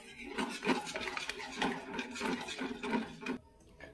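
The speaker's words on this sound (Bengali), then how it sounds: "এরকমভাবে নাড়তে হবে যাতে নিচে লাম্পস না হয়ে যায়" A spoon stirs yogurt curry in a pan over low heat, making repeated close scraping and rubbing strokes in a steady rhythm before fading out.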